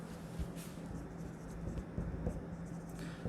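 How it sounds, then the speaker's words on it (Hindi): Faint scratching of a pen or marker writing on a board during an accounting lesson, soft and close against a steady background hum. "यहाँ पे हम कैपिटल लिखते हैं"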